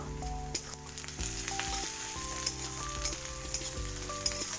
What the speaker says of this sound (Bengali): এটা লাল হওয়া পর্যন্ত এই পেঁয়াজটা আমি অপেক্ষা করব